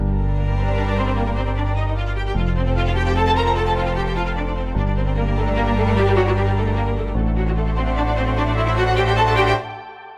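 A cinematic orchestral arrangement of a short chord progression plays alone, loud and full, with sustained chords shifting roughly every two and a half seconds over a deep bass and a bright, rich top, then cuts off near the end.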